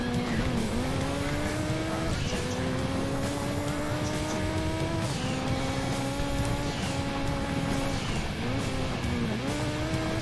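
Engine of a rally car in the PlayStation video game Gran Turismo 2, revving and shifting up and down in steady repeated sweeps as it corners, loud and continuous with occasional tire noise.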